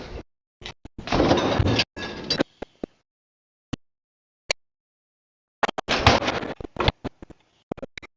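Ice being scooped and dropped for a mixed drink: a run of loud rattling, clinking bursts, two longer clusters separated by sharp isolated clicks and a short pause, close and with no talking.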